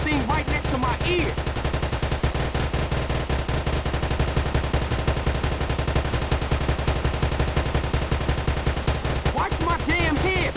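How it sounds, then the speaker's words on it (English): Rapid automatic gunfire in GTA San Andreas, a dense loud stream of shots that keeps going for the whole stretch, with brief voices heard at the start and end. "Stop shooting that thing right next to my ear."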